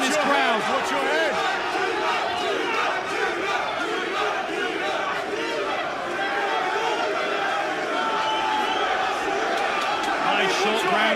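A dense arena crowd roars continuously at a PFL Europe MMA semifinal bout, loud, sustained shouting and cheering filling the space throughout, with no break in the din.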